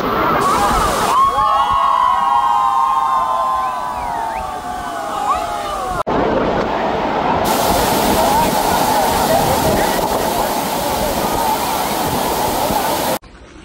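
Savatkada waterfall at Rajapur in the Konkan region, its broad steady roar of falling water loud and close throughout, with a brief change in tone partway through as the view shifts.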